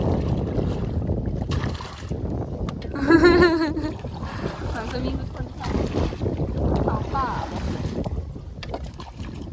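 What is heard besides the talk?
wind blowing past while on a rowing boat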